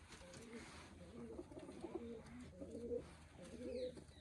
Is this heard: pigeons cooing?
yes